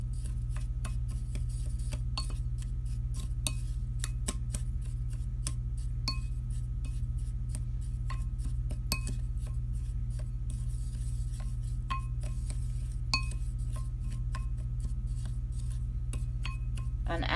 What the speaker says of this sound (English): give that a stir to combine the oats and the salts